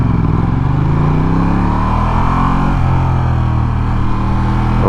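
A Ducati XDiavel motorcycle ridden in its medium power setting, a loud close engine drone with shifting pitch as it pulls, mixed with heavy wind rush and no talk.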